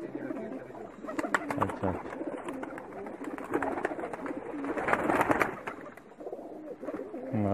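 A flock of Pakistani high-flyer pigeons coo in a dense, continuous rumble close by, with someone speaking briefly over the constant murmur.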